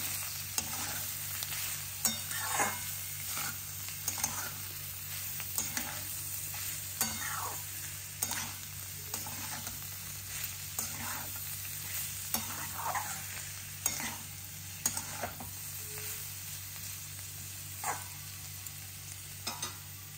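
Bottle gourd peel frying in a pan with turmeric and salt, a steady close sizzle broken by repeated scraping stirs throughout, with no talking.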